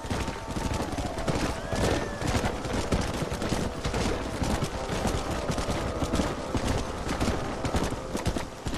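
Horses' hooves clip-clop steadily in the Red Dead Redemption video game on Xbox 360, a continuous trotting patter under dense game noise with distant gunfire crackling in the background.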